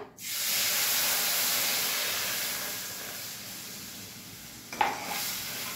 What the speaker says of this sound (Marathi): खोबरं छान परतून निघालं आपलं। दूध घालूया।